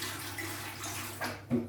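Water poured from the tank of a MeacoDry Arete One dehumidifier, a short steady trickling splash that swells briefly near the end, close and alone.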